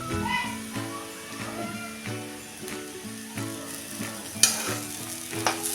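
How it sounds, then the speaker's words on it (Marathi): A spoon stirs traditional Maharashtrian Ravan pithla in a pan with coriander and grated coconut, with rhythmic scraping over a soft sizzle and a steady low tonal hum underneath. "आता हे एकसारखं हलवून आपण हे सर्व करूया"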